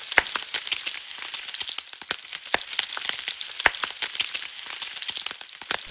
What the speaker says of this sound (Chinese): 油热后，均匀地下入腌制好的五花肉